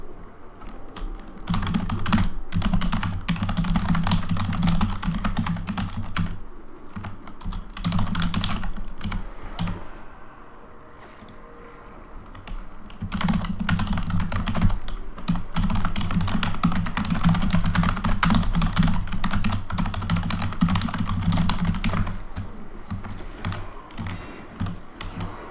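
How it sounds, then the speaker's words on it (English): Rapid typing on a computer keyboard goes on for the whole stretch, with dense clattering keystrokes, nearby and steady, broken by a few short pauses and soft background game audio. "Typing so much."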